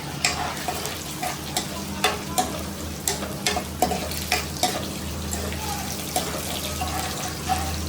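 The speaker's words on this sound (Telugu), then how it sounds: "వెల్లుల్లిపాయలు కొంచెం బ్రౌన్గా వేగితే మనం పప్పులో తినేటప్పుడు పంటికి తగినప్పుడు బాగుంటాయి" Garlic frying in oil for gongura dal, a steady loud sizzle punctuated by repeated sharp scraping taps of a spoon stirring the pan.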